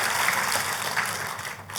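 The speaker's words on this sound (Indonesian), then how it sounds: "Kita kasih tepuk tangannya yang paling meriah buat Tuhan kita" A church congregation claps together in a brief, dense burst of applause, steady and fairly loud, with no voice over it.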